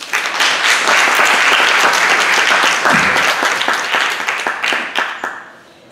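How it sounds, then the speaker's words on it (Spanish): An audience at an academic panel on language, pedagogy, technology, art and cinema applauds a presenter, a loud sustained round of dense clapping that gradually thins and fades out at the end. "Démosles un aplauso,"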